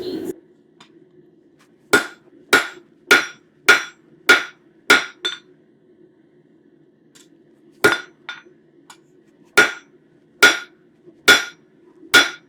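Blacksmith's hammer striking hot metal on an anvil while thinning and flattening a bird feeder hanger, a quick run of six ringing blows, a pause, then five more, close and loud.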